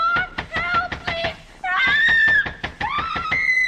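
A woman screams repeatedly for help in an old-time radio drama, a series of loud, sharp, rising shrieks with brief pauses, close and urgent, building in intensity toward the end.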